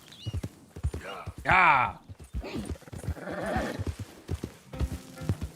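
Horse hooves clip-clop at a steady rhythm while riding in the video game Red Dead Redemption 2, with a brief whinny-like cry; someone talks over the hoofbeats.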